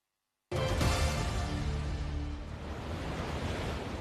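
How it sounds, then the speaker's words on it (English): Strong ocean waves pound the Guam coastline as Super Typhoon Bavi approaches, a loud, continuous roaring wash of surf that starts abruptly and stays dense and steady, with no voices. "Strong waves are battering Guam's coastline as Super Typhoon Bavi intensifies on approach to the U.S. Pacific territory"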